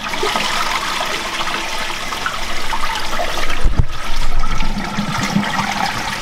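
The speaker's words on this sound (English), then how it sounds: "We're gonna watch the drips on the bottom." Water running and trickling from a leaking plumbing fixture, a steady close rushing flow with a louder gush partway through, nobody speaking.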